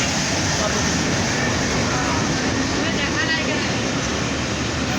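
A steady, loud rumble of trains at Fulbari station fills the clip, with a constant broadband roar and faint squealing tones, no clear voices.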